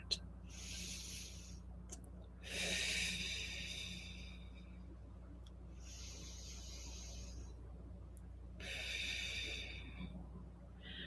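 Slow, deep breathing during a guided meditation, with three long, soft breath sounds separated by quiet pauses, faint and close in a hushed room.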